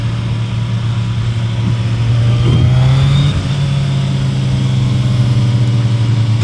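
A Suzuki Hayabusa motorcycle engine pulls steadily in gear, a loud, continuous low drone that rises slightly in pitch mid-run before settling, with no speech.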